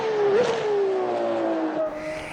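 A sim racing car engine drones steadily with a rising and falling whine, loud and close, alone without talk.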